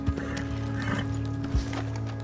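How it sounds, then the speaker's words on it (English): Horse hooves in Red Dead Redemption 2 online, a steady clip-clop of a ridden horse close by over a constant low game hum, with a few heavier thuds and faint snorting. "Let's put this on the horse, though, and let's get ourselves good and gone and deliver that."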